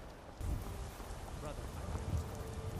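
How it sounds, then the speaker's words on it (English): Steady rain hisses continuously, with a low rumble underneath, a downpour in the video game Skyrim. "Of course it's raining."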